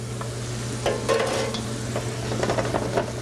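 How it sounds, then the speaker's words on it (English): Fresh tomatoes sear in hot olive oil in a pan, giving a steady sizzle with a low hum running beneath it and a few brief stirring scrapes, close by and alone, with no talking. "We're just going to sear those a little bit. You can hear that going. Just sear those in that olive oil."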